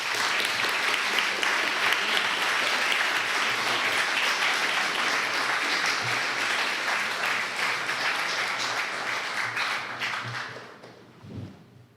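A large lecture audience claps steadily and loudly for about ten seconds as a speaker is invited to the podium, then the applause thins out and fades to a few scattered claps.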